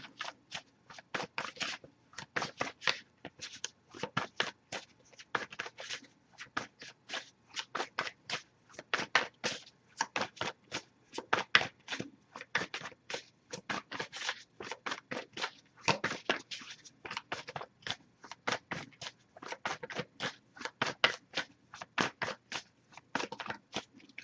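Someone shuffles a deck of tarot oracle cards, producing a long run of quick, crisp, papery riffles and taps in an even rhythm, close and quiet.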